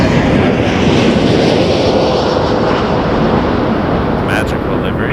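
An Azores Airlines Airbus A321neo jet flying past at Toronto Pearson airport, a loud, steady broadband engine roar that stays constant throughout, with people talking.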